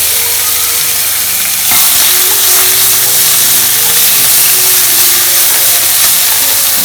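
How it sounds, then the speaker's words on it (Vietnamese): Squid and shrimp stir-fried in oil in a pan give a loud, steady sizzle and hiss. The sizzle grows fuller partway through and runs on with no talking. "Bây giờ mình lại cho một ít dầu và mình xào mực với xào tôm."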